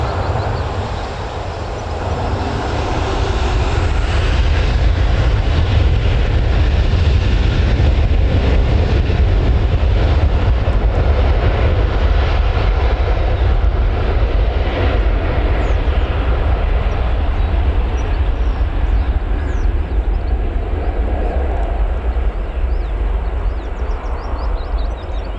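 An Emirates airliner climbs out after takeoff from Newcastle Airport, giving a heavy, rumbling engine roar that stays loud and steady throughout.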